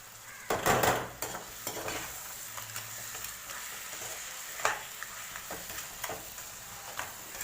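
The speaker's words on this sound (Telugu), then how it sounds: "ఇలా ఫ్రై చేసుకుంటూ ఉండాలి." Pithala being fried and stirred in a pan: a soft, steady sizzle close by, broken by scattered scrapes and clinks of a utensil against the pan.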